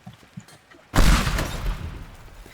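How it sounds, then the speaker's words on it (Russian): A bomb detonates in the Teardown video game as one sudden, loud blast after a few quiet knocks, followed by a crackling, rumbling tail of debris as it fades. "это мы кидаем все такой бомбой, которая взрывается"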